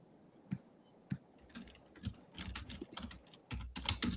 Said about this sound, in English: I was typing on Instagram.